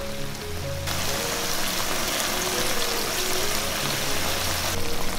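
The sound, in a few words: tofu simmering in sauce over medium heat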